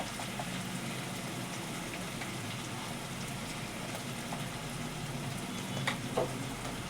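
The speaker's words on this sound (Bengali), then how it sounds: "লবণটা দিয়ে ভাজা করছি।" A spice mix of tomato purée, green chilli, cumin seeds and dried red chilli fries with added salt, giving a steady, dense sizzle and crackle close by, with a faint spoon stir and a couple of small clicks near the end.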